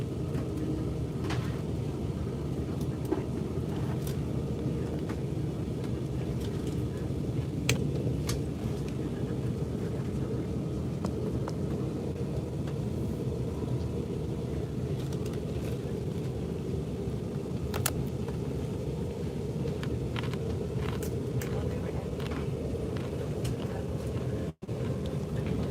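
Interior of a full three-car Amtrak Illinois Zephyr train riding toward Chicago, a steady low rumble and rolling drone with occasional faint clicks and knocks throughout.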